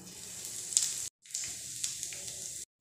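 Nigella and carom seeds sizzle in smoking-hot oil for a paratha filling, a steady crackling hiss that stops abruptly for a moment and then resumes, close and moderately loud with no talk.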